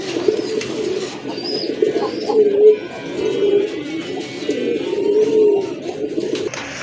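Close, fairly loud pigeon cooing from pet birds for sale comes in repeated rolling phrases about every second, with faint chirps and background murmur around them.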